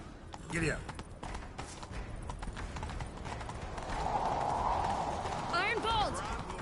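Horse hooves clip-clop in a quick galloping rhythm in the video game The Witcher, steady and fairly close, with a neigh or short voice bursts near the start and end.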